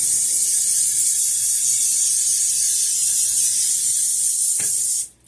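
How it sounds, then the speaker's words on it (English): A long, steady hiss of cooking spray from an aerosol can into a muffin pan, loud and close, with a small tap near the end before it cuts off. "I'm going to spray this muffin pan here."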